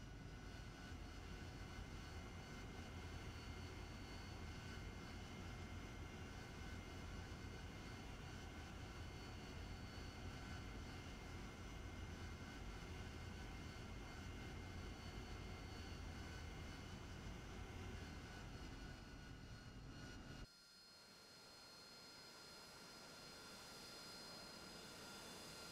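An AV-8B Harrier jet engine in the DCS World flight game gives a steady, heavy roar that drops sharply about four-fifths of the way through, then swells gradually as the throttle comes up.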